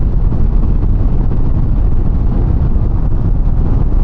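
Heavy, constant wind roar buffets the microphone while riding a Harley-Davidson CVO motorcycle, a loud low rumble that masks nearly everything else and never lets up.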